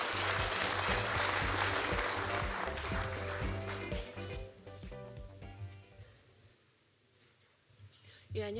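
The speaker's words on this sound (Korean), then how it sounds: "여러분 큰 박수로 맞이해 주시면 감사하겠습니다" An audience at a non-ferrous metals symposium claps to welcome a speaker, dense applause that is loud at first and gradually thins out and fades, with some talk underneath.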